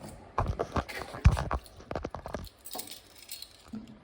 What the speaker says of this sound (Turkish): Baba anahtarıyla açıyor.